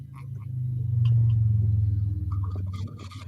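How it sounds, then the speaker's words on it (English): A deep, sustained thunder rumble swells over about three seconds and then slowly fades, heard fairly close and alone with no voices. "Thunder."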